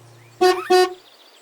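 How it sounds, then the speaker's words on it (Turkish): Two short, loud car horn honks in quick succession, each a bright, brassy beep, with quiet background before and after. "Korna"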